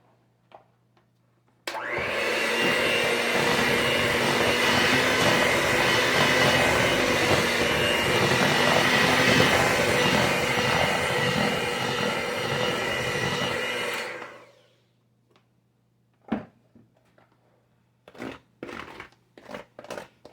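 A KitchenAid stand mixer beats pound cake batter while flour is added, giving a loud, steady motor whir that runs for about twelve seconds before cutting off, followed by a few scattered clinks and bumps.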